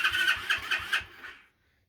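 An Icebear Champion engine fitted with a new carburetor cranks over in a quick run of about five close, loud chugs, then sputters and dies into silence.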